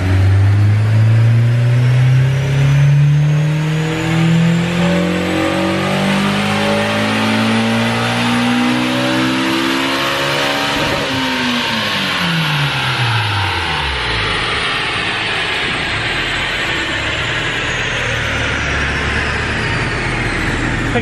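A Honda S2000 engine revs hard on a dyno, climbing steadily in pitch over about ten seconds before dropping back, loud and close with a continuous roar and no talk.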